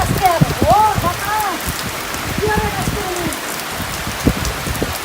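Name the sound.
rain during a storm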